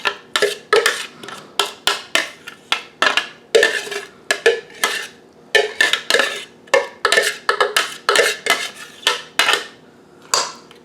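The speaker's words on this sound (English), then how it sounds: "Alright, I'm just mixing up my cucumber" Cucumber relish mixture being stirred in a bowl with a utensil, a steady rhythm of repeated clacking scrapes against the bowl, close and fairly loud, about two strokes per second, with no talking.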